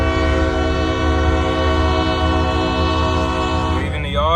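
A CSX freight train pulls out of a rail yard in Greenville, North Carolina, its horn blaring a long, loud, sustained chord close by. Near the end the horn sweeps and fades as the train moves off.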